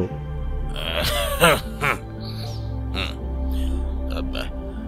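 A voice actor in a Bengali detective audio drama imitates an elderly man clearing his throat and coughing, a few rough, throaty bursts close to the mic with no words.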